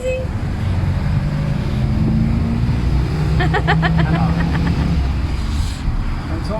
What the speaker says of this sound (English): This is the inside of a Tuk Tuk here